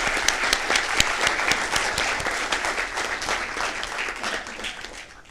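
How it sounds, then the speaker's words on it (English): Audience applause at the Downey City Council Meeting, a dense, steady round of clapping from a room of people that holds for several seconds and then thins and fades toward the end. "Let's give them a round of applause."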